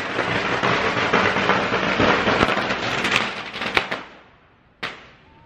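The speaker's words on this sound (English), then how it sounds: "They've basically just set off like loads of, sounds like firecrackers inside and now it's smoking from the top." Firecrackers set off inside the Chalong Temple in Phuket make a dense, crackling barrage of rapid pops that builds, then thins to scattered bangs and one last sharp crack.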